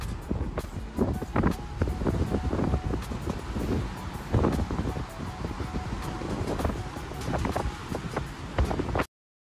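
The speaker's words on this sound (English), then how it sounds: "The wind." Strong wind buffets the microphone at the top of the Belfry of Bruges in Belgium, a loud, gusting rumble that runs steadily before cutting off abruptly.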